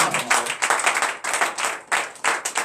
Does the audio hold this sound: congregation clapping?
yes